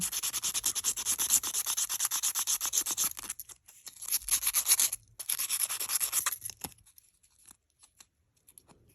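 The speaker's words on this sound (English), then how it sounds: "So you can use that little type of sander, like the one with the little drill bits" A small rotary sander buffs a painted cowrie shell, giving a close, steady abrasive rubbing hiss in bursts that stops partway through and trails into quiet.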